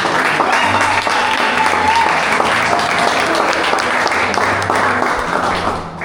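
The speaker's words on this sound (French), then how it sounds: "Applaudissez pour Joyce Babatunde" Audience applause rolls through a slam poetry show, a steady, full wash of clapping from a room of people, with a voice briefly audible under it before it tapers at the end.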